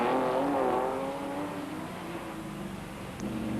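A Porsche 908 race car at a 1991 historic racing meeting at Montlhéry near Paris roars loudly past, its engine note sweeping and fading as the field comes through, alone without talk.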